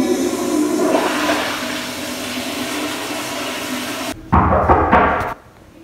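A school toilet gives a steady rushing flush with water noise that runs for about four seconds, followed by a short burst of louder gurgling and clunking before it cuts to near silence.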